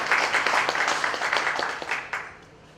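Applause from an audience at a government event rings out with distinct individual claps at first, then thins and fades away.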